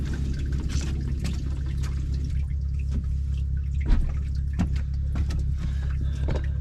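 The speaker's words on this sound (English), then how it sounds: "Well, it's definitely water coming in." Water leaks into a Monterey, with a steady low rumble and scattered drips and splashes throughout, close by.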